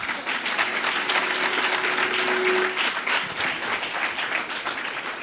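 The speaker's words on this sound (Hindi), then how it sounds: "अब मैंने तो बोला नहीं बंद करो, ताली बजाते रहो भाई" Audience at a success training session applauding continuously, a full, even roar of many hands clapping at moderate loudness, with a faint steady tone briefly audible beneath it.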